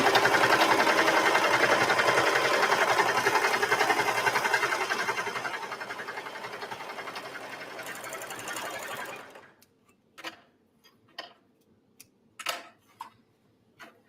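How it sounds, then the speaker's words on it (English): A sewing machine runs steadily for about nine seconds, stitching down the back side of a dress facing, then stops, leaving a few scattered clicks and handling taps of fabric. "then we'll sew down that back side of the facing"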